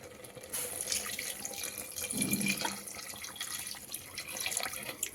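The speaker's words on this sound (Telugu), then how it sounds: "ఒక చెంబు అంతా వాటర్ వేసేసుకోవాలండి." Water runs steadily from a tap, splashing into a cooking pot of mutton curry below at low, even volume, with no voices.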